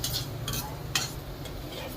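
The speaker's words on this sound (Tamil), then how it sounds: "நல்லா வதக்கிக்கோங்க." Prawns with onion, garlic paste, chilli powder and salt are sautéed in a pan, with a soft continuous sizzle and a few scraping stirs of a spoon, close and without talk.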